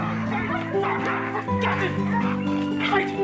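Dogs bark and yip repeatedly in quick, uneven bursts, with whimpering mixed in and people talking underneath, fairly close.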